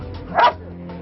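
A firefighters' search dog barks once during a rescue training exercise, a single short, fairly loud bark over a steady low background hum.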